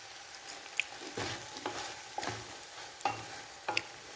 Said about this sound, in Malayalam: ഇതിനകത്തേക്ക് എണ്ണ ഒഴിച്ച് ഇളക്കാം.